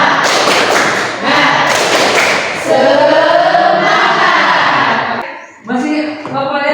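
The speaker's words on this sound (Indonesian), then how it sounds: "Tepuk semangat." A classroom of pupils performs a rhythmic spirit clap, loud bursts of patterned clapping and thumping mixed with the class chanting together, a brief pause, then another short round.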